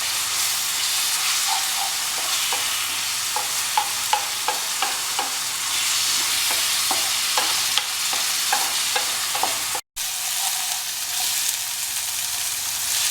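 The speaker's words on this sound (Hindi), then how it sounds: "इसको भी घी में फ्राई कर लेते हैं बढ़िया प्याज के साथ।" Mutton liver sizzles and fries in ghee with onions, a steady loud hiss with repeated stirring scrapes and clinks, with no voices.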